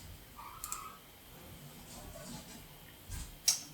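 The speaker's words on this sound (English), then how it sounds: "click on download" Computer mouse clicks while downloading a FoxPro DBF file converted to JSON, a few soft, sharp clicks spread across a quiet room, with a louder click near the end.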